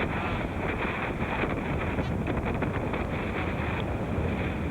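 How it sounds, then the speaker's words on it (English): Steady broadband rumble of a fishing boat engine at about 5 knots, mixed with wind buffeting and rushing water, continuous and fairly loud with no voices. "The fishing boat has slowed to about 5 knots, but even so, boarding is hazardous."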